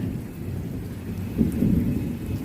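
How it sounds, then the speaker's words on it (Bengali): Steady rain pours down in a low, dense wash while thunder rolls in and swells louder partway through, near and continuous, with no voices. "দেখো কেমন বৃষ্টি শুরু হয়ে গেছে"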